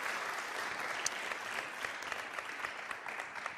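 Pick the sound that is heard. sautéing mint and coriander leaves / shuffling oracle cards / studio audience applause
studio audience applause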